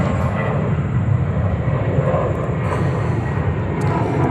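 Steady, loud roar of an airplane taking off at JFK airport, a broad continuous engine rumble with a faint high whine, heard from a distance with no talking.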